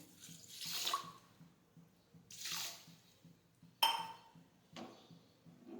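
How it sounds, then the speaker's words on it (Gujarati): Water poured from a vessel over sugar in a kadai to make syrup for mandvi pak, heard as four short splashing pours separated by quiet pauses, close and fairly soft. "તેમાં આપણે પાણી ખાંડ ડૂબે તેટલું નાખવાનું છે।"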